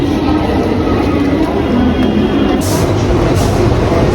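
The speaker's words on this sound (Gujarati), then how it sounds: "ફાઇનલી લોકલ ટ્રેનમાં આવી ગયા છે." A Mumbai local train runs loud and steady from inside the carriage, filling the whole stretch with a continuous rumble and rattle.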